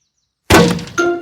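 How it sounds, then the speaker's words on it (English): In a cartoon, a football smacks into a glass greenhouse: sudden silence breaks into a loud, close thunk with a crash of glass, followed by a ringing clang that lingers briefly, with no talking. "Who's throwing footballs at my greenhouse?"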